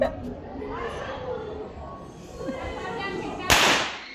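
A single sharp firecracker crack near the end, set off outdoors by a family, after several seconds of people chatting and background noise.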